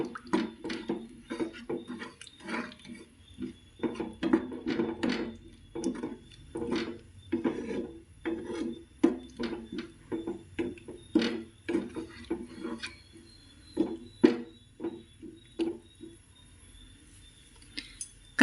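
A spoon stirs a tomato curry with added water in a pan, giving repeated close scraping taps and soft wet knocks in an uneven rhythm.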